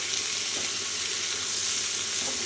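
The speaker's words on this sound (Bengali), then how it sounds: "আমি কিন্তু এখানে আবারও খানিকক্ষণ ভেজে নেবো" Vegetables fry in a pan with salt, turmeric and green chili added, giving a steady, close hiss of sizzling oil with faint stirring beneath and no talk.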